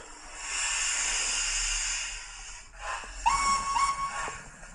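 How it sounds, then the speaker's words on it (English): Steady broadband hiss of steam venting from a Hornby BR class 4MT model steam locomotive, fairly loud for about two and a half seconds, then fading and giving way to a few short whistle-like tones and softer bursts. "Let's just get this class BR4MT up. Get the steam on"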